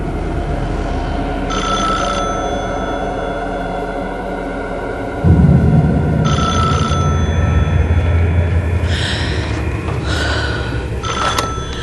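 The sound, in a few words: telephone ringing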